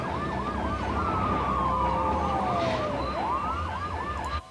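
A wailing emergency siren cycles rapidly and continuously, with a second siren tone sweeping slowly downward across it, loud and close throughout.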